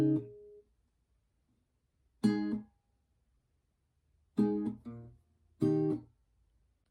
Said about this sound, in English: So to play the 4 blocks we have here for the plucking, it would sound like this.